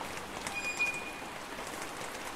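Rain falls on a cemetery in the video game Distraint, a soft and steady hiss of drops on the ground with a faint tonal whine on top and no speech.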